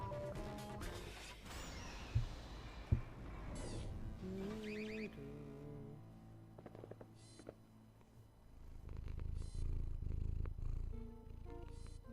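A cat purrs within the Portal 2 developer commentary of the video game, a low steady rumble that swells loudest over the last few seconds, following earlier music and electronic game sounds.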